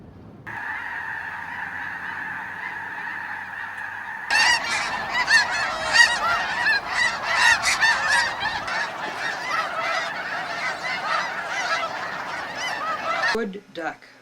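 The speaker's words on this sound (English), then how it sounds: "Snow goose." Snow geese call in a dense, loud chorus of overlapping honks, starting as a steady tone and then swelling into a busy flock of many birds calling at once.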